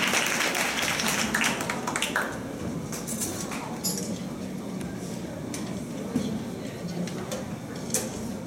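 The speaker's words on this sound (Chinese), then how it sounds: "请大家掌声鼓励。" An audience at a children's song performance applauds, a brief burst of scattered clapping that thins out, with voices talking over it.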